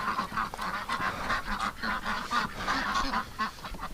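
Ducks call from a barn on a damp, cold winter day, a busy overlapping chorus of close quacks and honks that keeps going throughout.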